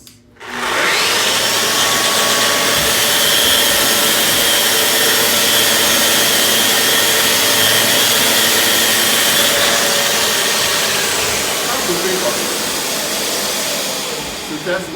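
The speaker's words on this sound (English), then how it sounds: "But now, there's the sander." An electric sander works across wood in a shop, a steady loud broadband whine and hiss that starts abruptly and runs continuously for the whole stretch, easing slightly near the end.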